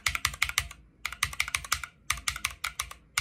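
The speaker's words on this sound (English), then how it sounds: "these are the Razor Red switches. They're just really sensitive." Mechanical keyboard with Razer Red switches typed in quick rhythmic bursts, crisp close clacks in three short runs with brief pauses between.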